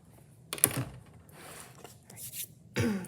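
Charcoal scrapes across paper while labels are written, making a few short, dry scratching strokes separated by quiet pauses, close and fairly soft.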